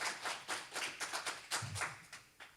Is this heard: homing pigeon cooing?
no